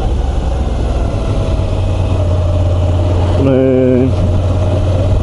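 Moto Guzzi V85 TT, a 2022 850 cc motorcycle, chugging at low revs with a loud, steady low throb and engine drone throughout, with a brief rising tonal burst near the end and someone speaking briefly over it.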